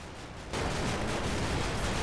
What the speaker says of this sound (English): it just was a catastrophic explosion on the BMP